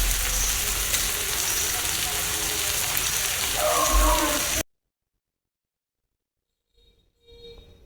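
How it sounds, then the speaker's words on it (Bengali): Vegetables with capsicum and tomato sizzle steadily in a pan for homemade fried rice, a loud continuous crackle close up that cuts off abruptly, followed by silence and faint clatter. "এখন এগুলোকে সবজিগুলোকে ভেজে নিচ্ছি"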